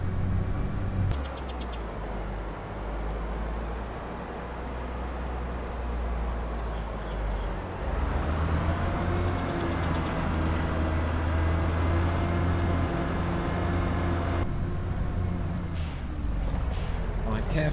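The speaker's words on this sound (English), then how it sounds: "Hoping that this little tractor's got the grunt to pull me through the mud whilst pulling this trailer full of" Small tractor in Farming Simulator 22 grinding through mud while hauling a trailer of corn, a steady low engine drone running throughout with a rise in load partway, heard under continuous talking.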